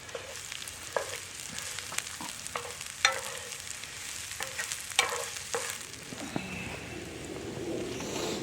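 Chopped scallion onions and fresh garlic sizzle softly in a pan, a steady faint frying hiss broken by repeated scraping and stirring clicks of a utensil.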